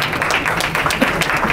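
Audience applause at a press conference for Marathi TV serials, a loud, dense burst of clapping heard up close and alone for a second and a half.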